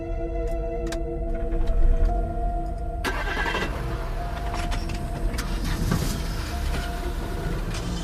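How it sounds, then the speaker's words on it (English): A portable generator in a garage fires up after a storm, its engine catching about midway and settling into a steady, loud running drone. "Trevor, can you turn on the generator for me"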